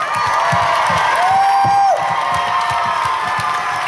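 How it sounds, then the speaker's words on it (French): An audience at a gala applauds and cheers for the performer Déborah, a steady wash of clapping and crowd noise with a brief whistle or whoop rising above it. "je vous demande un tonnerre d'applaudissements pour Déborah"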